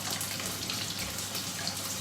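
Roughly 100 ml of water pours into a pan of cooking hunter's chicken, a steady close rushing splash with no break.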